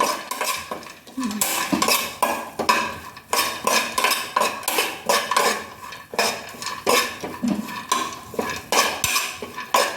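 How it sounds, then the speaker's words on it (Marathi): Dry fruits roasting in ghee in a pan while a metal spoon scrapes and stirs them, with repeated clinks and scraping strokes in a steady rhythm, close and fairly loud, with no talking. "ड्रायफ्रुट्स पहिल्यांदा भाजून घेऊया"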